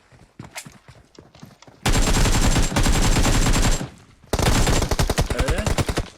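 Gunfire in the mobile shooter PUBG Mobile played on an emulator: loud sustained automatic bursts of rapid shots in two long volleys, preceded by a few scattered single shots and footsteps, close and dominant.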